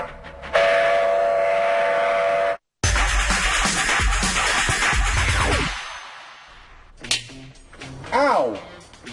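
A passing train sounds a loud, sustained horn blast, then roars by close with heavy rumbling and clatter that fades away, followed by brief excited voices.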